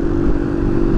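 A smoking Yamaha motorcycle engine drones close by on the road, a loud steady hum that blends into continuous road and wind noise.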